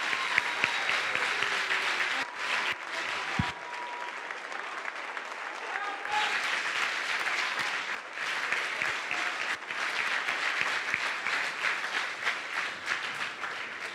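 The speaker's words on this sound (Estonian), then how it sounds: "Et ma arvan, et te olete istunud küll, et võiks korraks püsti tõusta ja ühe suure aplausi Karlile teha." A school audience at a playback show breaks into long, loud applause, dense clapping from a large crowd filling the hall, with voices mixed in and brief dips before it swells again.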